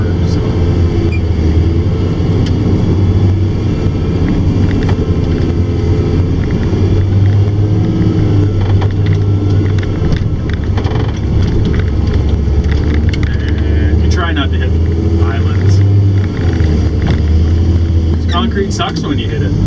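A John Deere 644K wheel loader pushing snow on icy, packed ground, with a loud steady diesel engine drone and low rumble close by throughout, and some scattered clanks.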